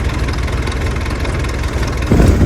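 A heavy tractor engine, a DI model stuck in a field, idles loudly and close by, with a steady low throb that swells briefly toward the end.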